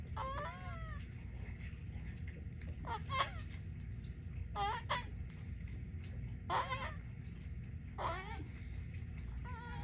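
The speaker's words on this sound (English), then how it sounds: "you can get funny duck farts." Cartoonish duck fart sound effects from a tablet video game, with about six short squawking, wobbling bursts spaced a second or two apart over a steady low background hum.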